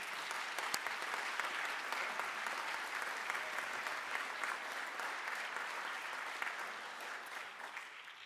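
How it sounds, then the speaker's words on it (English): An audience at a youth brass band championship results ceremony gives a steady round of applause, a dense wash of many hands clapping that holds for several seconds and fades slightly at the end. "Please would you give them all another round of applause."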